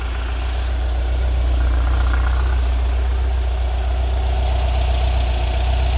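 Air-cooled flat-four of a Porsche 914 running steadily under held throttle, a loud continuous low rumble with a slightly uneven, knocking texture and no pauses throughout.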